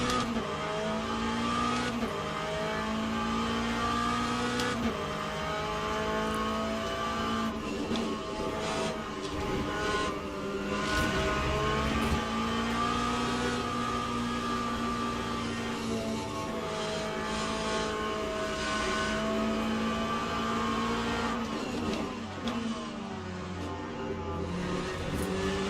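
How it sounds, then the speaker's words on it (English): Lamborghini and Peugeot race cars in Assetto Corsa roar past one after another, sustained loud engine whine with shifting pitch and gear changes, continuous throughout with no talking. "So we have a Lamborghini and another Peugeot go through."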